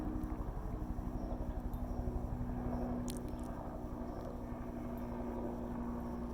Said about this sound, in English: Got a little helicopter somewhere around here flying overhead